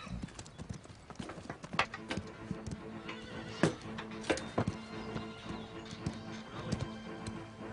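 Horse hooves clip-clopping in a steady rhythm with several loud whinnies breaking through, close and clear over a busy outdoor background.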